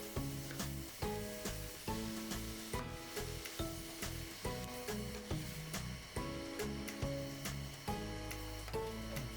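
Mutton vegetable kuruma with turmeric powder sizzles steadily in a pan while it is stirred in a repeating rhythm. The cooking sound is faint and sits under looping background music with no talking.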